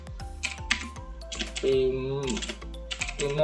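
Quick, uneven keystrokes on a computer keyboard clatter up close while commands are entered during a Windows 10 setup, with a voice talking over part of the typing.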